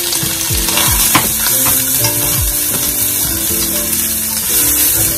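Minced garlic and onion fry in a pan, a loud bright hiss running steadily throughout, partly covered by tonal background music.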